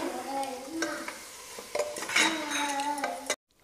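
Mutton curry masala stirred and sautéed in a pot, a spoon scraping and clinking against the metal in repeated strokes over a low sizzle, close and steady before cutting off abruptly near the end.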